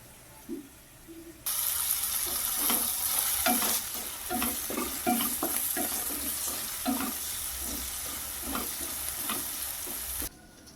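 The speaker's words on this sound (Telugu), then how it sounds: "బ్రౌన్ కలర్ వచ్చేంత వరకు ఆ టమాటో ముక్కలు కూడా మగ్గిపోయేంత వరకు ఇలా వేయించుకుందామండి" Tomato pieces and curry leaves fry in a pan with a steady close sizzle, broken by repeated scraping stirs of a spoon.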